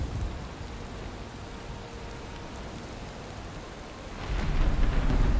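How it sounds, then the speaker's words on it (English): Steady rain from a storm in the game Valheim, with a rumble of thunder swelling in near the end over the dense, hissing downpour. "I thought because of the angle of the rain it wasn't gonna happen"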